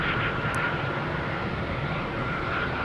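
A JetBlue Airbus A321 bound for San Francisco gives off a faint, steady distant engine rumble at Boston Logan Airport, a soft continuous wash of jet noise.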